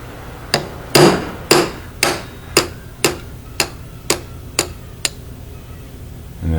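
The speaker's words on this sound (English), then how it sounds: "Just take the pin and the hammer," About ten sharp hammer strikes on metal punching out a stirrup pin, evenly spaced and close, fading slightly in force as they go, then a brief pause.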